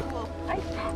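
Several dogs, including a blue bay shepherd, give short yips, whimpers and soft woofs while greeting other dogs outdoors during a holiday weekend, with people talking nearby throughout.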